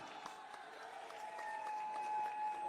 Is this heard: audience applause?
yes